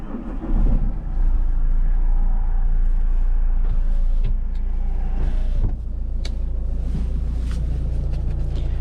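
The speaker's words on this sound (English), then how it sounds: "the second one is going to start the engine" A 2010 Opel Astra H TwinTop OPC Line engine starting with the key, a brief crank and catch, then a steady low idle rumble settling in, close up inside the cabin, with no talk over it.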